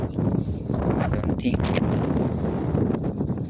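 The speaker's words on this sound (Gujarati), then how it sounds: "પવન અત્યારે ફૂલ પવન હે" Strong wind sweeping across open farm fields after rain near Thangadh, buffeting the microphone with a continuous, loud, rumbling roar that barely lets up for the whole stretch.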